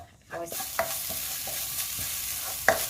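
Minced garlic and onion stir-fried in a pan for chicken wings, giving a steady close sizzle with scraping stirs and clinks of the utensil against the pan, one sharper knock near the end.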